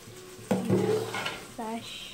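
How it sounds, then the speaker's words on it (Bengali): Chicken rezala gravy being sautéed in a pan, with a couple of sharp utensil scrapes and clinks against the pan over a soft sizzle, close and fairly loud. "এই গ্রেভিটা একটু ভালো করে কষিয়ে নিচ্ছি"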